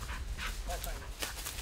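Hunting dogs work thick woodcock cover in the Michigan woods, giving a few short whimpers and yips with some panting and rustling, close by and against light background noise.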